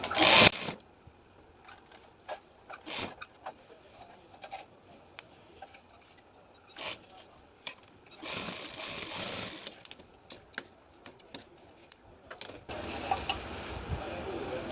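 Sewing machine stitching a folded fabric strip with cord laid inside, for a sleeve design, heard as short, intermittent mechanical whirring runs separated by quiet gaps and handling clicks, with a longer buzzing stretch near the end.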